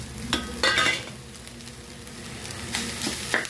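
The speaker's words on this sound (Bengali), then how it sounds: "আর এই যে ডিম ভাজাটা এবার একটু দিয়ে দিলাম" Fried egg being stirred in a pan with little oil: a close, continuous light sizzle broken by a few sharp scraping stirs of the utensil, with no voices.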